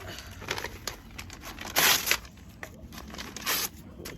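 Paper is crumpled and torn by hand for a compost bag, giving a close run of crinkling, rustling bursts with a couple of louder crunches and no talk.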